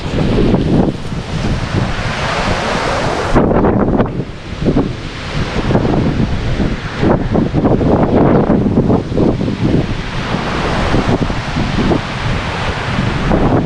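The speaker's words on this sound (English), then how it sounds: "45-mile-an-hour winds." Strong 45-mile-an-hour wind roars and buffets the microphone continuously near Busselton, Australia, loud and gusty, with rushing noise throughout and no voices.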